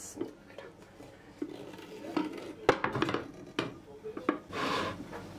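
A pot of meat pilaf is flipped upside down onto a serving plate, giving soft clinks, scrapes and dull knocks of metal and china over several seconds, close by and fairly quiet, with a brief muffled thump near the end.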